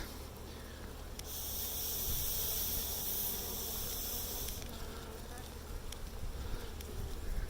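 Honey bees buzzing steadily around an open Flow Hive during an inspection, a dense continuous hum with a brighter, louder swell of close wingbeats passing for several seconds.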